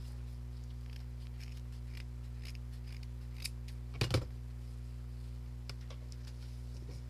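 Scissors snip through craft material for a handmade hanging beehive decoration, a few quick, soft cuts bunched together midway over a steady low hum, with faint ticks scattered before and after.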